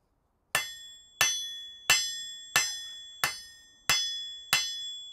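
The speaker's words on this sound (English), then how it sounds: "Let the hammer do the work." A blacksmith's hammer strikes hot metal on an anvil in a smithy, seven loud, ringing blows at an even, unhurried pace, each decaying between strikes.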